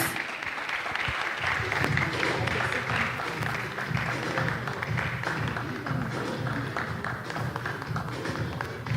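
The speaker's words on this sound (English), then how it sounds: "Let's give him a round of applause." A conference audience at an African readers event claps as a writer comes forward, dense continuous applause filling the room at steady loudness with no talk.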